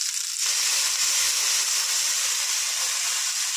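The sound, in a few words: dal frying in olive oil in a wok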